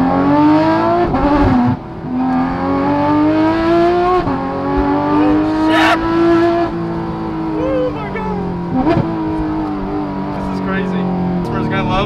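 A Porsche GT3 RS with a Dundon Motorsport megaphone exhaust revs loudly and drops through a first-gear downshift, its harsh rising and falling engine note running close and continuous for the whole stretch, with people talking over it.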